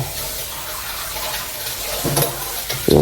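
Running water splashes steadily while dishes are washed by hand at a sink, close and loud, with a few clinks and knocks of dishware near the end and no talking.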